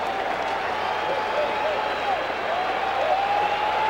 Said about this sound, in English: Now here comes the crowd again, trying to get the first Doc Gooden K of the night.